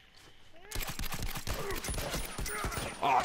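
Online match of The Last of Us with a dense, continuous burst of game gunfire, rapid overlapping shots at moderate loudness, while a player talks over the action.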